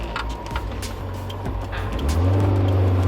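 A Toyota AE86 Corolla engine is revved close by, a rough mid-level growl with a few blips, then rising to a louder sustained rev at the end.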